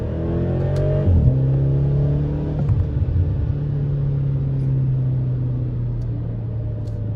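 BMW X5M engine running steadily with a deep, loud drone, a brief rise and shift around the first second, then holding a level tone under road rumble; no talking.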